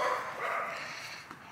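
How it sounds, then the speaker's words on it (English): Dogs barking somewhere outdoors along a road, a few faint, distant barks and yips carried under quiet ambient noise. "Dogs are barking, don't mind them."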